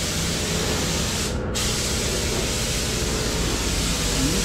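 Spray gun applying color paint to a 1970 Chevelle wagon, a loud, continuous close hiss that fills the whole clip with only a momentary break.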